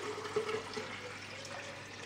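Tap water pours steadily into a blender jug, a soft continuous splashing and gurgle at close range.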